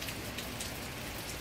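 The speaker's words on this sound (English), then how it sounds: "I'm glad we're getting some rain." Brief stretch of constant rainfall in Kansas, an even wash of drops hissing and pattering nearby, with no talking.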